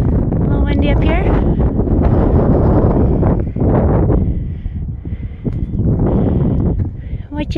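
Steady, heavy wind at a campsite in Arizona buffets the microphone with broadband roaring gusts, easing slightly now and then, while a voice is heard over it.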